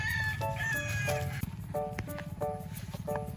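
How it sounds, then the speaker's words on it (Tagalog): Chickens on a farm in summertime cluck and squawk busily at close range, with sharp calls repeating over a constant murmur of the flock. "Kumustahin naman natin ang ating mga manok."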